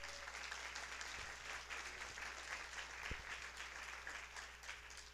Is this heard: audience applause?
yes